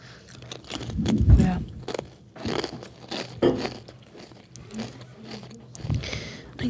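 Chips being bitten and chewed close to the microphone, with irregular bursts of crisp crunching and crackling spread across several seconds, interspersed with quieter pauses.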